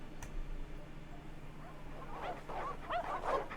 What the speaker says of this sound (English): the sounds of growls grew louder